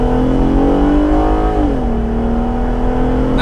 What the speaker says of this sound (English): So let's do a little acceleration.